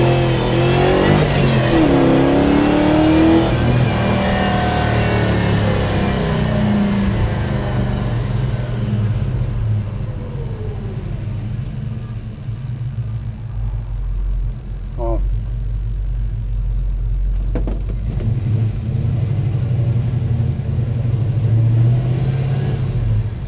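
A small car engine on a carbureted setup with roughly 680 CFM fuel delivery runs loudly while the car drives, rising in revs then settling into a steady low drone with a rumbling throttle burst near the end.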